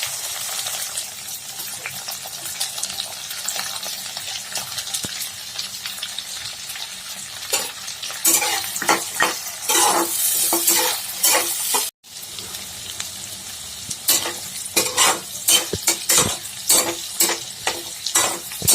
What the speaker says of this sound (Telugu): ఘీ వేడైన తర్వాత డ్రై ఫ్రూట్స్ వేసుకుని ఫ్రై చేసుకోవాలి